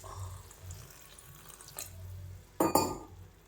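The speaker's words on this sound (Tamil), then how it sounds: "கொஞ்சமாக தண்ணி விட்டுக்கலாம்." Water is poured from a tap into a cooking pot while making a lentil curry: a faint splash, then a brief, louder gush of running water lasting under a second, with quiet background otherwise.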